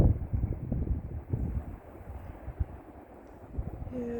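Chilly ocean wind at the shore in Gearhart, Oregon, buffeting the microphone as a steady low rumble with irregular gusts throughout, no talking.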